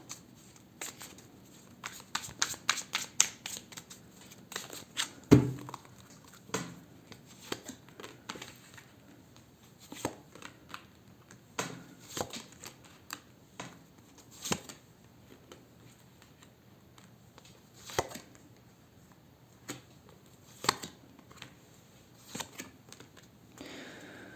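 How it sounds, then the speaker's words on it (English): Tarot cards being shuffled by hand, a run of soft irregular riffling taps and papery flicks, close and quiet, with no talking. "I'm just gonna shuffle them again just a little bit."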